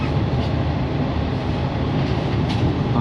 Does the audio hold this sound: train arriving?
yes